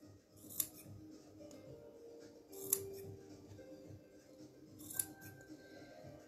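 Scissors snipping through felt and tape while making a felt envelope, three crisp, separate cuts a couple of seconds apart over a steady background murmur.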